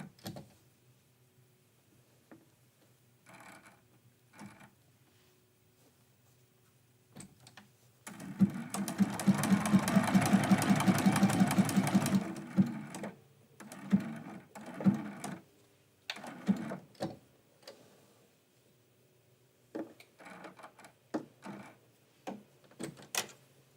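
Domestic sewing machine stitching a quilt-as-you-go Christmas quilt block: one loud, steady run of rapid stitching lasting several seconds mid-clip, surrounded by quieter scattered clicks, snips and handling noises, with no talk.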